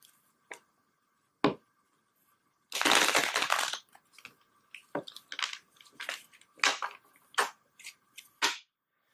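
Tarot cards are shuffled by hand in uneven bursts: a longer riffling rush followed by scattered short flicks and shuffling slaps, close and fairly quiet in a silent room.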